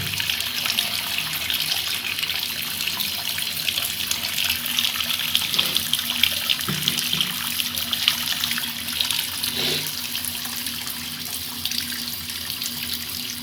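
Water gushes steadily from a tap into a basin, a continuous close hiss and splash with a few faint knocks in the background.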